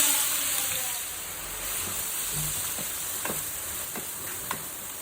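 Onions fry in hot oil in a kadai with a steady close sizzle, broken by soft scrapes and knocks of stirring, a few sharper clicks near the end, and no speech.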